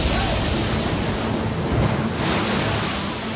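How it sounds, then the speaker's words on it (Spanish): Broad roaring wash of large ocean waves surging onto the coast as a tsunami arrives, a dense, loud, unbroken rush of water and wind with no voices. "Son olas gigantes que viajan más rápido que un jet y pueden cruzar océanos enteros en solo unas horas."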